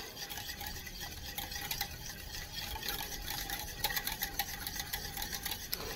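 Egg and milk mixture is briskly stirred in a bowl, a quiet, continuous rapid clicking and swishing with no talk.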